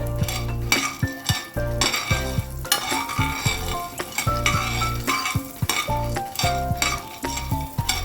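Makhana (fox nuts) being stirred with butter in a pan: repeated rhythmic scrapes and clinks of a utensil against metal over a light sizzle, with a tuneful background underneath.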